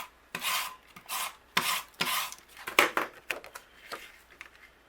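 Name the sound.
tape runner applying adhesive to card panel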